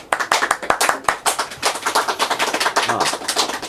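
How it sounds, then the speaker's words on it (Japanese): A handful of people clap in a small studio, close and crisp, individual claps clearly separated in a quick uneven rhythm that fades slightly toward the end. "はい、拍手。"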